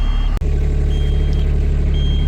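A steady electronic low-fuel warning tone repeats in short beeps over the low rumble of an idling Shantui STE35SR mini excavator engine, with a brief dropout early on.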